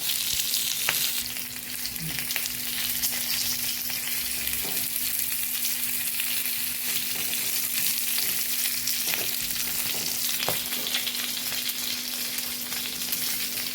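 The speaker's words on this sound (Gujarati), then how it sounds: "આવી રીતે આપણે ફેરવતા ફેરવતા મરચાંને સરસ પકાવી લેવાના છે" Stuffed green chillies frying in oil in a pan while being turned, a loud continuous sizzle with occasional soft stirring scrapes, close up and without talk.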